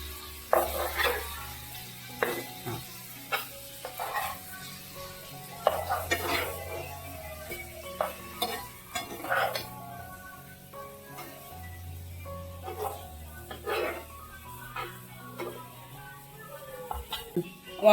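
Pomfret fish fries in a pan, with a continuous sizzle under repeated metallic scrapes and clinks of a spatula against the pan as the pieces are turned, the clattering coming in irregular bursts close by.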